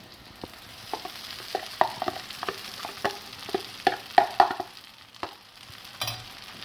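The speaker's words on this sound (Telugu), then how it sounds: "ఇప్పుడు మనము ఈ మెత్తగా చేసుకున్న ఇడ్లీని కలుపుతున్నామండి" Crumbled idli stirred into a hot tempering in a pan gives a soft sizzle under a string of spoon scrapes and taps, coming at uneven intervals close by.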